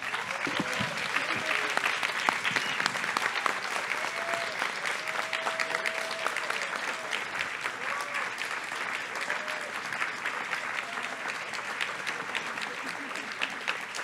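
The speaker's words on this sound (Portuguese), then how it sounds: "Por favor, palmas, né? Muitas palmas." Sustained audience applause at an evening book fair event in Brazil, dense clapping filling the whole stretch at steady volume, with faint voices and a few whoops mixed beneath.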